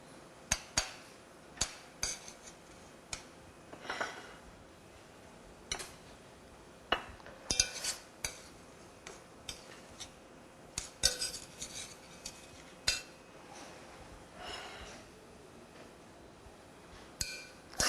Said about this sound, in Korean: 접시에 옮기겠습니다.